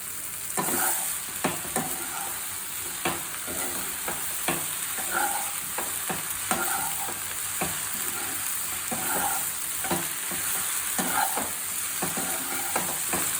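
Leftover idlis and coriander are tossed in a hot pan for masala idli, a loud continuous sizzle broken by frequent rhythmic scraping and clanking of a spatula against the pan, close up with no voices.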